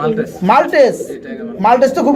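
Syrian Maltese pigeons at a pigeon sale coo in short, repeated throaty rolls, close and fairly loud, mixed with someone talking.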